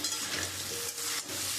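Potato pieces fry in a pan with a close, dense sizzle broken by quick stirring scrapes, brief and fairly quiet.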